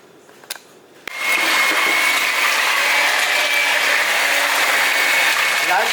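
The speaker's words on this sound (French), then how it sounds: "je vais passer avec un batteur électrique, le batteur pour bien mélanger" An electric hand mixer whips eggs and sugar for a semolina cake, switching on after a quiet second and then running as a loud, steady whirring drone to the end.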